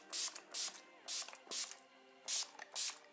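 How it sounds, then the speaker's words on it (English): Six short bursts of Urban Decay makeup setting spray misted from a pump bottle, each a soft airy hiss, close and fairly quiet, in an even rhythm with brief pauses between. "I'm gonna use the Urban Decay makeup setting spray."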